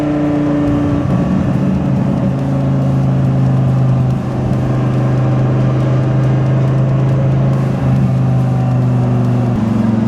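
A Dodge Viper fitted with a GCC triple disc clutch drives along, its engine note droning loud and steady near the microphone with a brief dip during a downshift midway.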